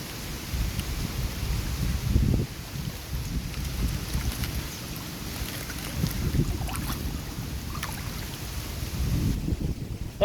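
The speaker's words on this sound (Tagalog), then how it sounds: "Patapos yung hangin ah." Strong typhoon wind roars and gusts steadily, buffeting the microphone with low rumbling bursts, with no one speaking.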